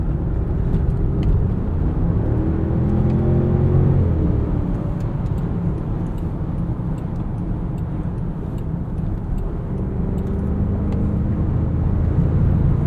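Range Rover P530 SE LWB seven-seater pushed hard into a corner, a steady loud low engine and road rumble from inside the cabin, continuous without talk.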